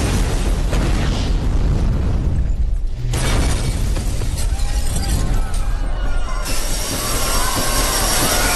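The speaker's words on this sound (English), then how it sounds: "Nimadir portladi. Bomba portladi." Bomb explosion in a Don 2 action film scene: a loud, sustained roar of blast and rumbling debris with crackling bursts, dense and close throughout, with no clear talking.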